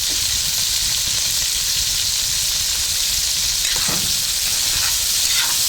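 Chicken pieces, thighs and legs, frying in hot oil for a tamarind chicken dish, giving a steady, loud, continuous sizzle and hiss throughout, with a few brief stirring scrapes near the end.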